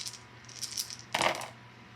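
Plastic dice rattle and clatter onto a tabletop during a fantasy board game battle, with a few light clicks followed by a sharper burst of tumbling clacks, close and crisp.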